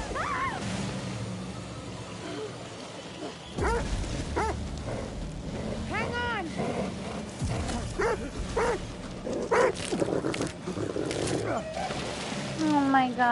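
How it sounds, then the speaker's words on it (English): A dog in The Dark Pictures: The Devil in Me barks and whimpers in short yips over game music and whooshes, while someone talks over it. "God, the dog, bro."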